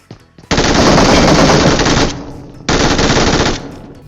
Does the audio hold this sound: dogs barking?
no